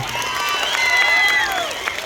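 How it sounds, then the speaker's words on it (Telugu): A large crowd at a packed public Jabardasth comedy event in Kalyanadurgam applauds loudly, the clapping mixed with cheers and high whistles in a short, sustained burst. "సురేంద్ర బాబు గారికి గట్టిగా చప్పట్లు కొడదామండి"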